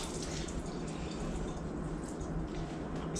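Faint, continuous splashing of tap water rinsing seeds off a green chile, a soft steady wash with small drips and no talking.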